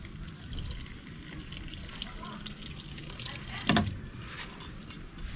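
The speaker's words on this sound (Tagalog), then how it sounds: "Lagyan natin ng konting tubig." Water pours into a cooking pot over a steady running-water wash, with a brief louder splash partway through and faint voices in the background.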